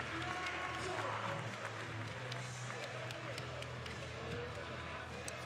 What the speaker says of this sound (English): Has the crowd cheering for him